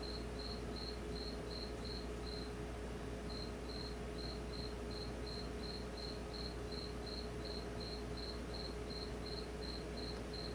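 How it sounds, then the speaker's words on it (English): Cricket chirping loudly and steadily in repeated pulsed bursts, with a brief pause early on, over a constant low hum and no talking. "Alright, sorry about that cricket."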